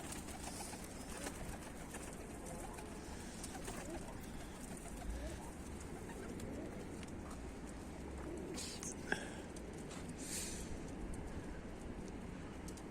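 Tumbler pigeons cooing in a loft while a pair of them fly overhead, soft steady bird murmuring with faint wingbeat flutters and occasional sharper calls, distant and continuous throughout.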